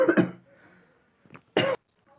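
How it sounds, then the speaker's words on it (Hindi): A person singing a devotional poem coughs in a few short, harsh bursts close to the microphone, with quiet gaps between them. "गाने में लगते तो खांसी आ जाती है।"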